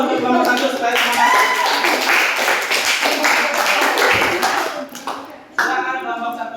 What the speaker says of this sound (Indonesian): berikan tepuk tangan dulu untuk kelompok 1 supaya semangat